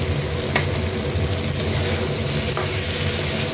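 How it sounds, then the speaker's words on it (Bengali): Green figs cooking as a vegetarian curry are sautéed in a pan with sugar, producing a dense, steady close-up sizzle with a couple of brief scraping stirs, no voices. "আর একটু ভালো করে কষিয়ে নেব।"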